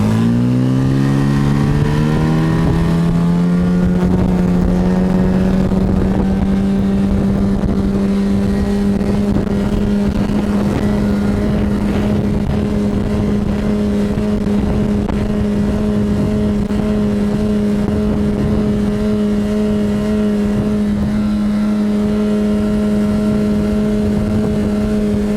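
A Yamaha 15-style tiller-steered outboard boat motor on a Hidea 9.8 starts at low revs and climbs steadily in pitch, then settles into a loud, sustained drone at speed, close and alone with no talk.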